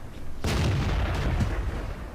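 A single loud tank cannon shot in World of Tanks booms out after a brief quiet lead-in, followed by a rumbling tail that fades over about two seconds.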